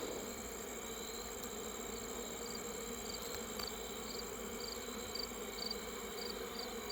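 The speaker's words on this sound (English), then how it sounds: "the bees are really congregating on the front now" A dense, steady hum of many honey bees buzzing together at a hive entrance, continuous and fairly faint, with a faint repeating chirp in the background.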